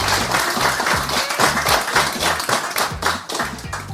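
A crowd claps in sustained, dense applause with steady loud hand claps throughout and no voices over it.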